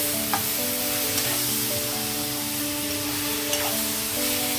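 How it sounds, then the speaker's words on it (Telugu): Cauliflower chana curry with tomato, curry leaves and green chillies being stirred in a pan, giving a steady sizzle with soft scraping stirs over a constant tonal hum, no voices. "ఇప్పుడు ఒకసారి కలుపుదాం దీన్ని అంతా"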